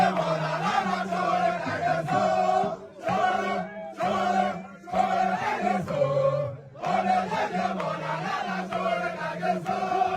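A protest crowd singing songs of solidarity in unison, a loud, chant-like melody in repeating phrases with brief dips between lines.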